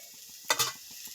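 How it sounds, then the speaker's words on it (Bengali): Long beans and potatoes frying in a pan, a soft steady sizzle broken by one brief scrape of stirring, faint and close. "বরবটি আলুটা ভাজা ভাজা হয়ে গেছে"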